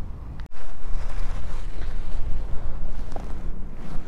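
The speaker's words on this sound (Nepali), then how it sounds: "हावा बेसरी चलिराखेको छ" Strong wind gusts outdoors while a drone is being flown, a loud roaring buffet of air against the microphone that starts abruptly after a brief pause and keeps blowing steadily, with no speech.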